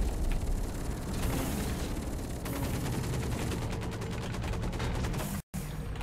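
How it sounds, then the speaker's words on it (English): Dense, continuous gunfire in the mech shooter game Hawken, rapid bursts and rattling shots layered loudly throughout with a brief dropout near the end, no talk over it. "Oh, there is somebody shooting at me."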